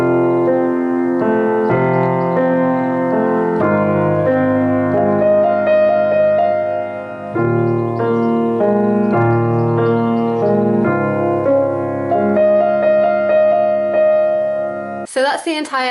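Solo piano playing the slow, pedaled intro of a song, sustained chords ringing steadily and close for about fifteen seconds before a brief burst of other sound at the end.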